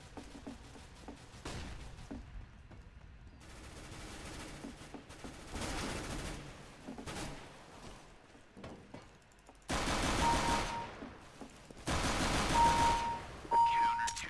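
Bursts of gunfire from the video game CS:GO come in several loud clusters, heaviest near the end, with game sounds and some talk in between.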